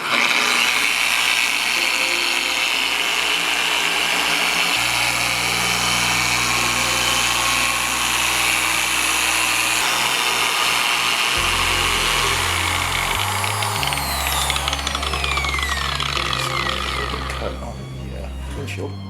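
A car paint-correction polisher whines at a high pitch, shifting through several speed steps before winding down near the end, with a person speaking over the tool.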